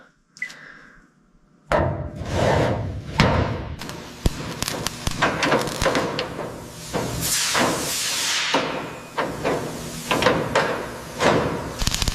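A heavy metal panel on a rusted toy train restoration is lifted and shifted into position, producing a series of loud clunks, thuds and scraping knocks at close range.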